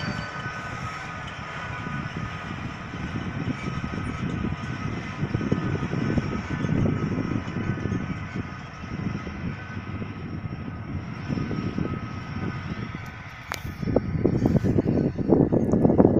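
A Zetor Forterra HD tractor's heavy diesel engine drones steadily and loudly while pulling an Elworthy Polaris 8.5 cultivator at 8-10 km/h, with rattling and clanking from the implement and a louder surge near the end.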